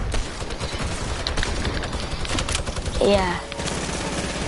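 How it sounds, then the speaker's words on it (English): Hunting rifle gunshots in a video game, dense rapid bursts of firing mixed with other game noise, with a player talking briefly over the action. "I'm trying to kill someone with my hunting rifle."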